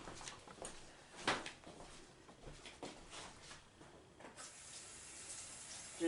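Faint running water from a tap splashing into a sink while glass rims are wetted, with soft clinks and handling sounds at moderate distance.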